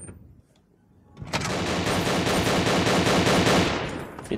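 Sustained automatic gunfire in the video game Fallout 3 erupts after a second of near-quiet, a loud, rapid rattling burst that holds for about three seconds before tapering off.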